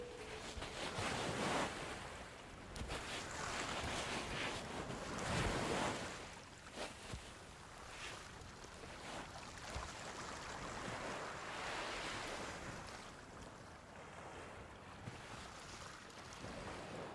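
Ocean waves and a sailing ship at sea in the video game Sea of Thieves, a continuous rolling surge of water and wind with swelling washes, no talk.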